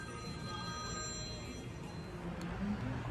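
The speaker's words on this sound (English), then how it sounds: "And my phone's ringing." A mobile phone ringing in an auto repair shop, a faint electronic tone with steady high pitched lines in the first part, heard under a constant background hum of the workshop.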